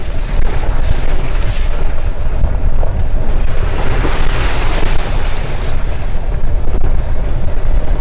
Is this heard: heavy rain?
yes